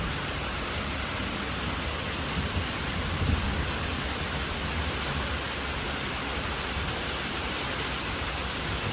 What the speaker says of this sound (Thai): ฝนตกได้ช้ำมากๆเลยนะคะบ่ายนี้